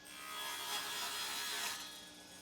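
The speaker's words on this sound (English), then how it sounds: "Now I need to take that over to the table saw" A table saw trims a piece of wood in a short, fairly faint cut, with a steady buzzing rasp that swells and eases over a couple of seconds.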